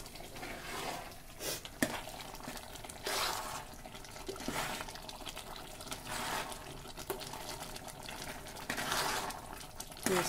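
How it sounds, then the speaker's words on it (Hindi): A spoon stirs thick kidney bean curry in a pot with repeated soft scraping strokes and light bubbling, quiet and close, without any talking. "मैं इसको अच्छे से मिक्स कर दी"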